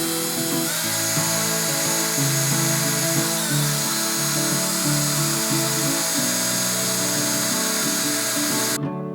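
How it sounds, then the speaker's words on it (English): Power drill bores into a kitchen cabinet during a renovation, a loud continuous high whine with wavering pitch that cuts off abruptly at the end. "I've got a piece of tape on my drill bit so I don't go through the cabinet."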